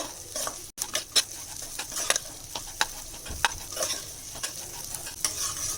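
Sprouted beans for a Kannada-style sprouted-gram sambar are dry-roasted in a pan, with steady scraping stirs and a soft sizzle that patters continuously, close up and fairly quiet.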